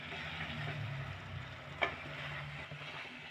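Gajar halwa with cashews and raisins being stirred in a pan over a medium flame, a faint steady frying hiss with one short scrape of the spoon, quiet and close, no talking.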